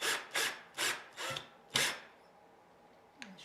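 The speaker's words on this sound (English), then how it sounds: "now I'm going to drive the screw in" A screw is driven into a wall to hang a mirror, making five quiet, rhythmic scraping, grinding bursts about half a second apart, followed by near silence and a faint tap.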